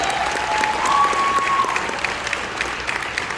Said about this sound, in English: So round of applause for the band on that